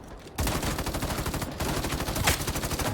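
Rapid automatic gunfire in the online shooter Battle Teams 2, a dense burst of repeated shots that starts abruptly after a brief quiet moment and keeps rattling steadily for the rest of the stretch, loud and close.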